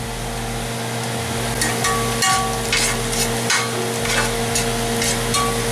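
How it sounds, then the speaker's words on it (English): Onion and three cloves of chopped garlic fry on high heat for chili con carne, a close sizzle broken by repeated scraping stirs and spoon knocks against the pan. "So it's important to keep stirring the onion because it will cook equally all the way"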